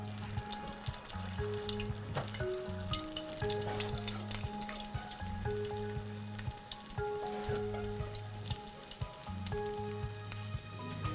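Continuous crackling sizzle of dough fritters, spooned from batter, frying in plenty of hot oil, steady throughout, with faint tonal hums in the background.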